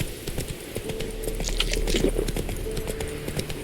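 Roach the horse galloping in The Witcher 3, its hooves striking in a rapid steady clip-clop over a low rumble, close and fairly loud, with no voices.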